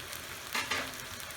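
Bitter gourd (ampalaya) tossed into a hot pan with shrimp, giving a brief burst of sizzling frying noise over a steady low crackle, with a second small surge right after.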